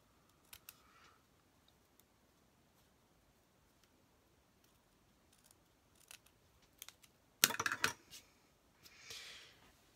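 Scissors snip off the small ends of ribbon bows on a handmade birth card. A few faint, sparse cuts are heard, followed by one louder cluster of sharp clicks.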